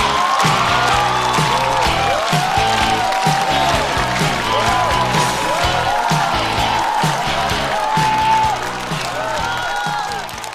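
A stand-up comedy audience applauds and cheers to welcome a comedian onto the stage, with steady clapping and a few whoops over a loud, repetitive walk-on music track throughout.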